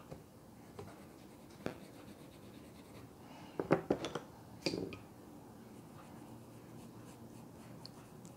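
Colored pencil scratches across paper while shading a portrait, with faint, close, intermittent strokes and a brief cluster of quicker, sharper scribbles in the middle.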